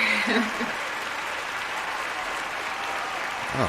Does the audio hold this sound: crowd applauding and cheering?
yes